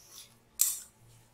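Spiced, salted soybean chunks are stirred in a bowl, giving one short, sharp metallic scrape and clink of a utensil against the bowl amid faint quiet handling.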